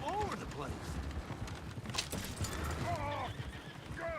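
Horses in the video game Red Dead Redemption 2 whinny repeatedly over steady galloping hooves, loud and close, with people shouting over the commotion.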